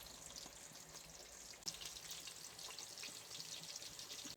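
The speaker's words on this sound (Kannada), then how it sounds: "ಈರುಳ್ಳಿ ಕೆಂಪಾಗೋ ತನಕ ಹುರಿಬೇಕು." Onions fry in a pan with cinnamon, cloves and star anise for a prawn biryani, giving a soft, steady hiss and faint crackle that stays quiet throughout.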